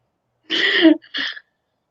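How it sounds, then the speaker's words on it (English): A single sharp sneeze bursts out close by, followed a moment later by a shorter, breathy second burst, then silence. "I'm going to sneeze real quick."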